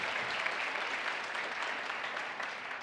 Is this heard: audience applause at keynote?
yes